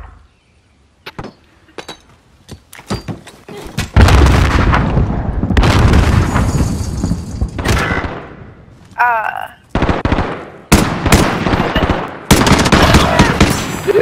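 Pistol and other gunfire crack out in Call of Duty: Modern Warfare, a military shooter game. Sharp shots come in clusters over a heavy, rumbling battle bed, some near and loud, with brief quieter gaps and game radio chatter between.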